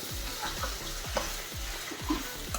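Shredded cabbage fries and sizzles in a pan for a moped-dal curry, with a steady crackle broken by repeated scraping stirs of a spoon, close and alone with no voices.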